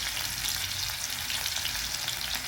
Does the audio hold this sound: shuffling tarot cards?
no